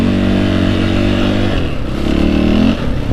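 A Husqvarna 501 FE dirt bike revs hard and accelerates on an Oregon trail, its engine note holding steady, dipping briefly, then climbing again, loud and close throughout with no talking.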